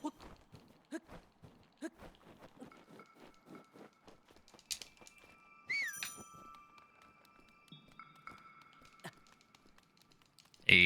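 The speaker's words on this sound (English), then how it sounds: "So I whistle." In a video game, a character whistles while sprinting, a thin high tone that arrives midway through a run of light footstep-like clicks and taps, with a sharper burst at the very end.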